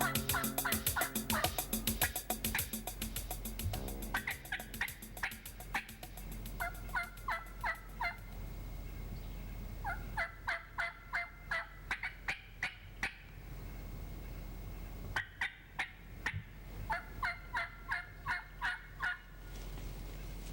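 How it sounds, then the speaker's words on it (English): A big wild gobbler in spring gobbles repeatedly, with loud rattling bursts arriving in several bouts that are separated by short pauses. "What a beautiful turkey."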